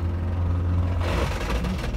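A failing 1998 Isuzu Amigo engine running rough with a heavy low rumble, shifting into a harsher, noisier roar partway through as it gives out, steady and close with no talk.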